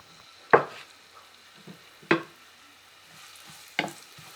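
Chopped onions fry in mustard oil in a pan for a cabbage stir-fry, with a soft sizzle underneath three distinct scraping stirs of a spatula, spaced about a second and a half apart.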